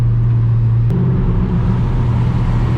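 Supercharged car fitted with a Harrop 2.6 litre blower and 720 horsepower, a loud, close, continuous engine roar with a deep low drone that shifts pitch slightly as it pulls hard.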